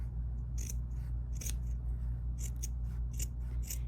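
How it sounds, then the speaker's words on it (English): Sharp embroidery scissors snipping fabric close to a stitching line, a series of short crisp cuts in a steady rhythm over a constant low background hum. "And you can use embroidery scissors for this, or any good sharp pair of scissors will do."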